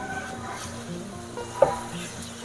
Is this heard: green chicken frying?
yes